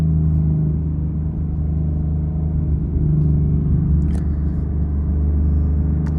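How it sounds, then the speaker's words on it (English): A manual Ford Mustang GT engine pulls hard near full throttle in third gear, a loud, steady low rumble droning on without a break under a faint high whine, heard from inside the car. "so you can see what it's like under full throttle or almost full throttle"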